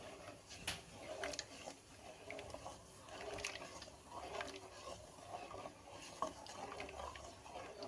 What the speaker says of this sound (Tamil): நம்ம தொடர்ச்சியை கைவிடாமல் கிளறிக்கிட்டே இருக்கணும்